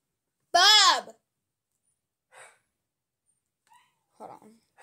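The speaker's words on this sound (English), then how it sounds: "Sorry if you hear my dog barking in the background," One loud, sharp bark rings out nearby, followed by faint, scattered muffled noises and long quiet gaps.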